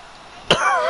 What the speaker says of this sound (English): I gotta get rid of this cough